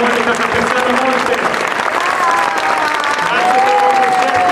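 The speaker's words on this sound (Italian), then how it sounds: "un bel applauso al maestro Pasquini e alla filarmonica" Loud, sustained applause from a concert audience for conductor Marco Pasquini and the philharmonic in Lugano, thick continuous clapping with faint voices and a few whistles or cheers mixed in.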